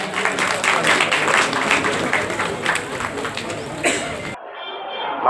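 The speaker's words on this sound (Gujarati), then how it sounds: "મિત્રો તાળીઓ" An audience claps steadily through the opening of a bank branch, a dense crowd applause that cuts off abruptly near the end.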